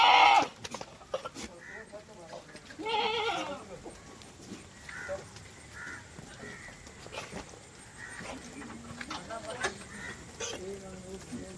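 Goats on a goat farm in Balaramapuram call out in intermittent bleats, some near and some farther off, mixed with other farm animal noise and occasional voices.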